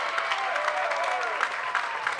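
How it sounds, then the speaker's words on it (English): A high school boys' basketball crowd at Cambria-Friesland vs Oakfield roars and claps after a made three-pointer, a sustained wave of applause and cheering with a commentator talking over it. "They're up on their feet, they're cheering, they're having a good time."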